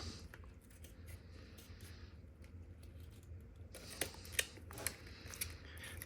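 Scissors trim a clear plastic dome for an FPV model plane, with a quiet run of small snips that grows into a few sharper, crisper cuts toward the end. The cutting is close but faint, and no one speaks.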